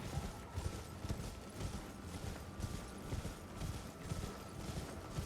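A horse gallops in the video game Elden Ring, rapid rhythmic hoofbeats repeating steadily throughout, clear and fairly close.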